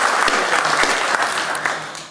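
Guests at a Parliament House peace and dialogue iftar dinner applaud, a dense, even burst of clapping from many hands that fades slightly at the end.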